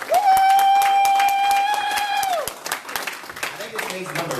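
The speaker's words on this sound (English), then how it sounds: "let's all give a warm round of applause" Audience clapping in a rhythmic, sharp burst of claps while someone holds a long sung or whooped note at the start, then talking and cheering continue over scattered claps.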